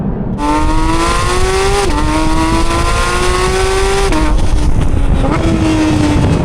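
A loud, sustained BMW M4 engine note rising in pitch through gears, with brief dips at each shift, close and continuous throughout.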